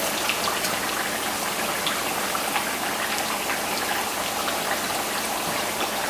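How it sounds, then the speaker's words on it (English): Plantains fry in hot oil for mofongo, giving a dense, steady crackling sizzle that fills the whole stretch without pause, close and fairly loud. "You can hear the oil, it's angry, very angry."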